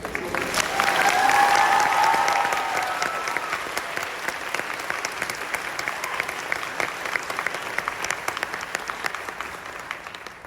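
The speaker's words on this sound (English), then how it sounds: "Let's have another round of applause." Audience applause at a book event, a dense wash of clapping that swells loudly in the first couple of seconds, then thins into scattered, fading claps, with faint crowd murmur underneath.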